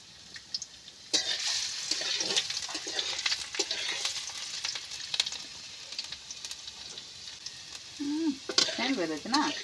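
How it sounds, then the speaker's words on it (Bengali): Chopped ginger and garlic hit hot oil and sizzle in a pan, a quiet crackling hiss with a few sharper spatters, and someone briefly speaks toward the end. "আদা কুচি দেবো। আর রসুন কুচি রেখেছিলাম, রসুনটা দিয়ে প্রথম আমি"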